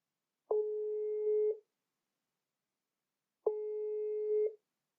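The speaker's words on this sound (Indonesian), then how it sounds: "Mari kita telepon." Telephone ringback tone heard while a call is placed to a guest: two steady, identical electronic tones about a second long, separated by a gap of silence, clean and alone with no voices.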